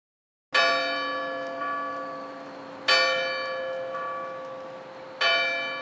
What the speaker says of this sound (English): He spoke before the hour bell sounded, which it now did with a deep, dull, hollow, melancholy